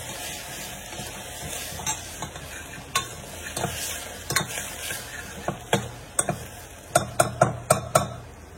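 Sliced onion frying in a pan with a green paste of garlic, coriander, green chili and ginger, a steady sizzle broken by repeated sharp scrapes and taps of a spoon stirring, quickening toward the end.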